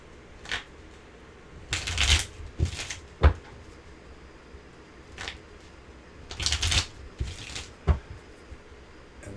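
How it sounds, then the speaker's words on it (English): A deck of cards being shuffled in several bursts, riffling rustles separated by short pauses and a few sharp taps, close and clear with no voices. "Get a good shuffle going on."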